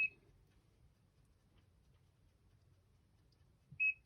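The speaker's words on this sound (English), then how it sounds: "One beep." Two short electronic beeps from a Schenker Zen30 watermaker control panel, one at the very start and one near the end, separated by a quiet low background hum.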